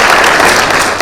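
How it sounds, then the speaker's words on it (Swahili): Crowd applause at a political rally, a dense burst of many hands clapping, loud and continuous for the full second. "Mheshimiwa Ntutu from Narok South, mpigieni makofi."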